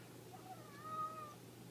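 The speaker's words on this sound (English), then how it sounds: "Look at this cat right here." A pet cat named Frankie lets out a single clear, drawn-out meow at close range in a quiet room.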